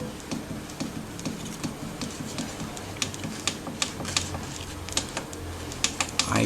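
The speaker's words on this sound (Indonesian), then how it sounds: "kita tekan enter satu kali, kemudian kita pilih ke atas atau ke bawah" Buttons clicking on an Entec recloser control panel, a series of sharp, close, irregular presses with a few quick double taps, alone over a quiet room hum.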